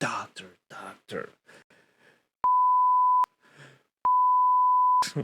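Two loud, steady censor beeps, each lasting under a second, cut into a man's speech to cover a spoken name. Talking comes before and between them.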